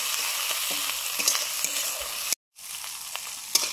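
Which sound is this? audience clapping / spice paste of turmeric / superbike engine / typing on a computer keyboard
spice paste of turmeric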